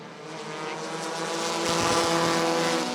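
Race cars at Rockford Speedway roar off at the green flag of a heat race, a dense, swelling engine drone that builds in loudness as the field approaches.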